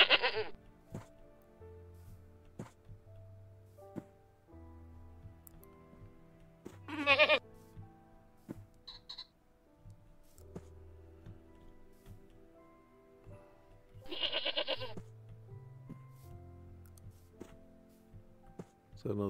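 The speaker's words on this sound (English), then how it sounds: "Another goat? Yeah, that is another goat." Goats bleat in the survival video game TerraFirmaCraft, with several short, bright calls rising out of a steady low in-game music bed and quieter ambient sounds.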